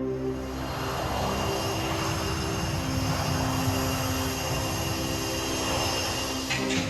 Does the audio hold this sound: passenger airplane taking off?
yes